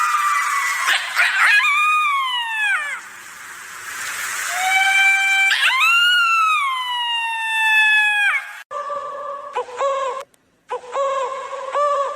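Several long, wavering howls from dogs rise and fall loudly and close, followed by shorter choppy wails broken by brief gaps.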